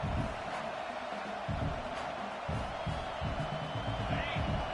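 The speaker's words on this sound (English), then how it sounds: "listen to this crowd noise. This stadium is vibrating" Loud stadium crowd noise at a Florida vs LSU college football game, a dense, continuous roar with rumbling surges and scattered whoops.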